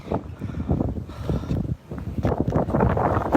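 A strong wind blows on the East Sea shore during surf fishing for stone flounder. Heavy gusts buffet the microphone in loud, uneven low rumbles that dip briefly and then surge again.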